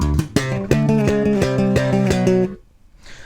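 A bass guitar plays a fast, rhythmic variation on a groove, transposed to another key: steady, punchy repeated notes for about two and a half seconds, then an abrupt stop, loud and close with no talk.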